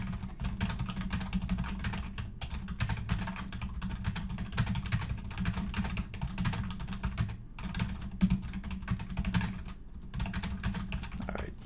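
Typing on a computer keyboard while entering text into a spreadsheet: a steady, continuous patter of key clicks across the whole stretch, close and even, with no talking.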